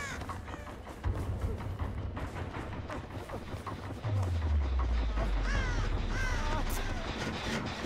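Crows cawing in the video game Dead by Daylight, several harsh caws scattered over a busy, rumbling game soundscape with deep low booms partway through.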